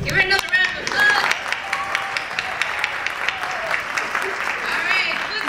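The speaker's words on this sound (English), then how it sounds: "Give her another round of applause." Audience at an oratory competition claps after a division winner is announced, a brief burst of applause that fades into scattered clapping.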